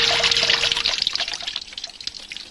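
Water pours and trickles onto a floor in a steady splashing stream that gradually thins into scattered drips, fairly close and heard on its own.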